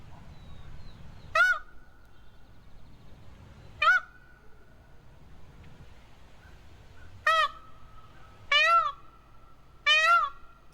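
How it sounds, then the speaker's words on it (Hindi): A peacock calls five times in loud, piercing, meow-like wails spaced a few seconds apart over quiet outdoor background noise. "अब मोर की म्याऊं म्याऊं सुनिए।"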